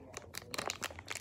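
Plastic wrapping on a surprise package being handled and pulled at, giving a run of close crinkling and crunching bursts with short gaps, ending in a sharp louder crackle.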